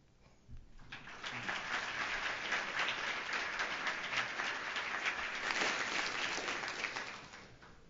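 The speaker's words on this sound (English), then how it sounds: "Another round of applause." A conference audience applauds at the end of an SREcon18 talk, the clapping building quickly and holding as a dense, even round for several seconds before tapering off.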